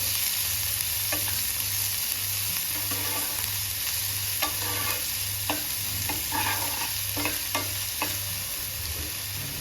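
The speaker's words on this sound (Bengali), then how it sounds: "এবার আমি ওতে দিয়ে দেবো পেঁয়াজ কুচুনি, নেড়ে দেবো" Chopped onion fries over mustard seeds and cumin in a pan, with a steady loud sizzle, repeated scrape-and-tap stirring strokes, and a low humming drone running underneath.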